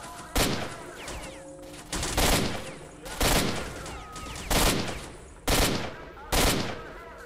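Bursts of automatic gunfire from a Kalashnikov rifle in the video game S.T.A.L.K.E.R.: Shadow of Chernobyl crack out in six loud, evenly spaced volleys of sharp rapid shots, each trailing off in a short echo.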